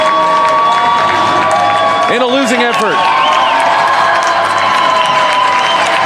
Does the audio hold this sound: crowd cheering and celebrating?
yes